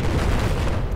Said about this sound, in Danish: jeg har helt lige hørt den eksplosion